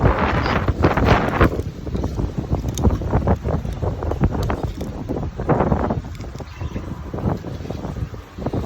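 Gusty wind blows across an open Florida homestead during a hard frost, a steady rushing roar with rising and falling gusts close to the microphone and no talking.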